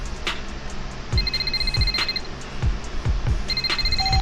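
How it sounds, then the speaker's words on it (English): A telephone rings in repeated electronic trills, several bursts in steady rhythm, fairly loud and near, with a low rumbling background underneath and no talking. "the phone rings again"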